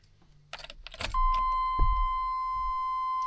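A Chevy Silverado K1500 chime module sounds a steady, continuous tone after keys jingle and the key goes into the ignition, holding clear and close to the end.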